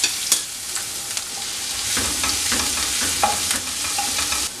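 Ginger and garlic sizzle steadily in hot oil in a pan while being stirred for an egg snack, with a close, continuous crackle and a few sharper scraping clicks, and no voices.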